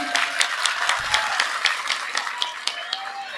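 Audience applause at an outdoor Islamic religious gathering in Sirandu village, Purbalingga, during very heavy rain; a steady wash of many hands clapping with sharp individual claps poking through, moderately loud and without speech.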